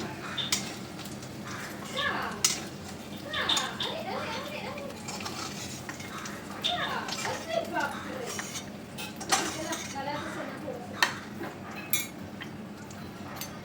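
Browned potatoes, lightly fried in oil, are lifted out of a pan with a metal utensil, producing repeated clinks and scrapes against the pan under a faint sizzle, with someone talking throughout.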